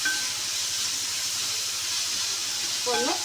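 Onions frying with salt in a pan for a beef fry and curry, a steady broad sizzle that holds evenly throughout, with a brief faint voice near the end.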